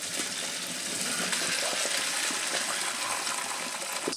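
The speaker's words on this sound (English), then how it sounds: "Alright, drain the cauliflower." Cooked cauliflower being drained from a pot, a steady close gush of pouring water with a broad hiss and splash that holds at a constant level for a few seconds.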